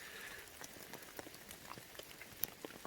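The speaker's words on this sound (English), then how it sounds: "It's not going to stop raining for 2 more days, like not even for a minute." Rain pattering on a tent in a rainforest, a steady faint hiss of drops with scattered small ticks and taps on the fabric, even and continuous with no voices.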